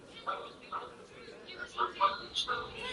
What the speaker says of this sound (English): Crazy ass dog.